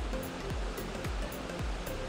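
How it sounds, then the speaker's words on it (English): River water below a dam at McLaren Falls rushes in a continuous, broad, even roar, close and steady throughout with no other sounds. "All of the water that you see coming down this river is actually coming down this side of the river that's not blocked by the dam."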